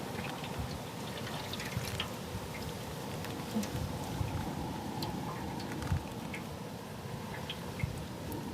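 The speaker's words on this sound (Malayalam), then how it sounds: "ഓയിൽ ഒഴിക്കട്ടോ ചട്ടിയിലേക്ക്." Cooking oil poured into a frying pan for a Kerala-style squid fry, a quiet, steady liquid trickle with a few faint drips and light clinks, no voices.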